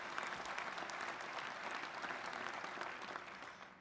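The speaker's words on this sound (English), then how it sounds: "I hope we can have a round of applause about that." A large audience applauding steadily at a political speech, a dense wash of clapping that holds for several seconds and eases slightly at the end.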